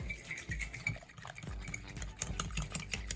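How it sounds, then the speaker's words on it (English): Whisking a velvet-chicken marinade of egg white, cornstarch and salt in a bowl; soft, rapid scraping and clicking of the whisk against the bowl in uneven strokes, fairly close and quiet. "Then once you have all your ingredients together, you're going to whisk it together."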